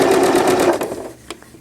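A sewing machine runs steadily while stitching knit fabric for a newborn gown, a loud close whirring burst that stops partway, followed by a couple of faint clicks.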